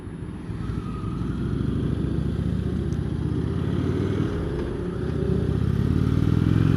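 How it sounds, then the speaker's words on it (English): An Indian Chieftain touring motorcycle, about 360 kg, rolls at walking pace along an off-camber footpath, its engine a steady low rumble mixed with wind and rolling noise and no voices. "I'm at walking pace on a 360 kilogram bike"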